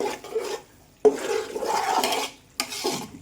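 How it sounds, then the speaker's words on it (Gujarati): A spoon scrapes and clatters against a cooking pot while sabudana is stirred, giving three distinct bursts of rough metallic stirring separated by short quiet gaps, close and fairly clear. "સાબુદાણાને આપણે સતત ચલાવતા રહેવાનું છે, જેથી કરીને તપેલામાં નીચે ચોંટે નહીં"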